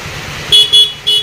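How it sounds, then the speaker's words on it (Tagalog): A stock car horn sounds three short honks after a brief pause, loud and close, over a faint background hiss of rain. "nandito po yung kanyang stock horn"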